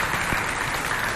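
Steady audience applause filling a short moment, dense and even clapping from a crowd, fairly close, with no distinct voices.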